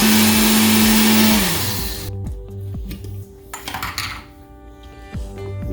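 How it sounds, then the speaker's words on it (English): A kitchen blender grinds coarse breadcrumbs with a loud, high whirring roar that winds down after about two seconds, followed by clinks and rattles from the appliance and jar. "You're going to take your coarse breadcrumbs, put them in the blender"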